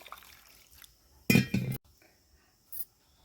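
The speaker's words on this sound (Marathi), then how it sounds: "मिक्सरच्या भांड्यात पाणी होते मिक्सरचं भांडंही धुवून घेते" Mixer grinder jar rinsed with water: a short, close burst of sloshing and splashing in the jar, then a brief clink, with no talk.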